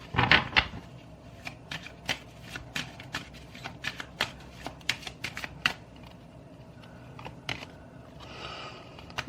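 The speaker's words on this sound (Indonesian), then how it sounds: "Keshuffle dulu ya kartunya" Tarot cards being shuffled by hand, a rapid run of crisp riffles and snaps with irregular ticking taps close up, steady for several seconds with no talking.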